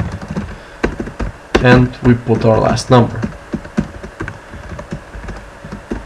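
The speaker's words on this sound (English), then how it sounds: "My typing at the keyboard is probably driving you crazy" Clicky typing on a computer keyboard, irregular keystrokes heard close and steady throughout, with someone talking over the middle of the sequence.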